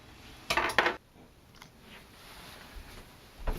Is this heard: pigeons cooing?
no